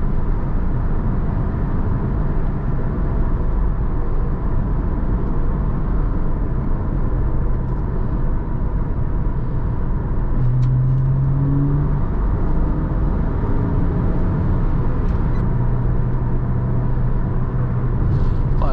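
A 2000 Porsche Boxster S heard from inside while cornering, a steady loud engine drone and road rumble throughout, with brief shifts in engine pitch.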